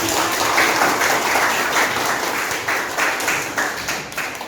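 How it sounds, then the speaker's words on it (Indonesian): A classroom audience applauding, a dense burst of clapping from many hands that holds steady and then thins into separate claps toward the end. "Berikan aplaus kepada"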